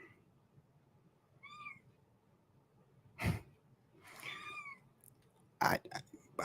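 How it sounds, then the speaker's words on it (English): A kitten meows twice, close and fairly loud, with short scuffling thumps and breathy noises between the cries and no talking. "Is this normal for a kitten, bro? He doesn't stop, bro."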